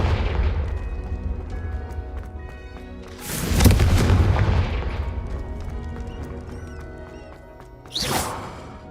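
Confringo fire-blast spell explosions in the Hogwarts Legacy video game, two booming blasts, the first heavy with a long rumbling decay, the second shorter with a whooshing edge, over crackling game background.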